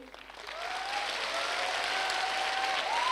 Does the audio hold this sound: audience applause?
yes